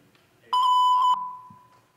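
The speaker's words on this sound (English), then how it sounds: "After the beep." A single steady electronic beep, about half a second long, clear and loud against a quiet room.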